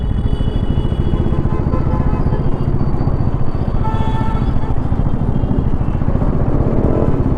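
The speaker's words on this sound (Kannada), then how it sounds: "ಎಕ್ಸಾಸ್ಟ್ ಈ ಥರ ಕೇಳಿಸುತ್ತೆ." A 2024 KTM Duke 390 motorcycle exhaust rumbles loud and steady throughout a ride, a continuous close-up engine drone with clattering mechanical texture and no pauses.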